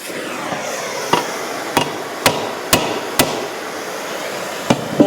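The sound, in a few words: hammering on an anvil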